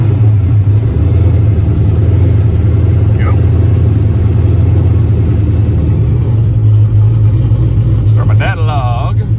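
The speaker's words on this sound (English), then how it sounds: "Let's go ahead and turn the car on." A turbocharged drag car sits with its rear raised and the engine idling in a loud, steady, close rumble. A brief whine rises near the end.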